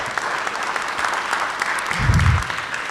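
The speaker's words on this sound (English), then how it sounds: "So give a round of applause to our DPW director." Applause at a town meeting honoring the public works director, steady clapping from a seated audience throughout, with a muffled voice in the background.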